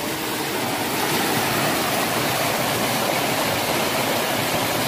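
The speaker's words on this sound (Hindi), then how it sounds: "वैसे तो पानी यहाँ से रिसते हुए आ रहा है" Water seeps and flows over rocks along a mountain trek at Shishupal Parvat in Mahasamund. It makes a steady, dense rushing hiss that stays close and constant throughout with no talking.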